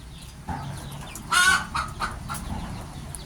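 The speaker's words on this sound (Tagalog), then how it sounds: "So itong mga sisiw naman na ito, decal brown ang nanay." Young native Rhode Island Red cross chicks and fowl in a brooder, with clucking and a brief louder chirp or call, close by, over steady background hiss.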